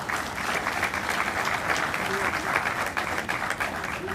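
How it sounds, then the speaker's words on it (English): Sustained clapping from an audience at a university Independence Day interaction session, a steady, even wash of applause without pauses. "Please, a big round of applause for sir as well."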